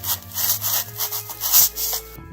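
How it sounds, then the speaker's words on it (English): A wooden stick scraping and rasping as it is pulled out of a Halloween garden scarecrow, a close, loud run of rough rubbing strokes over about two seconds, then stopping abruptly. "and I'm going to pull the stick out."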